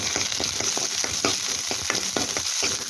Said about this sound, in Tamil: இது நல்லா வறுபடுறது நல்லா பொன்னிறமாக ஆகிற வரைக்கும் கிளறி விட்டுக்கலாம்.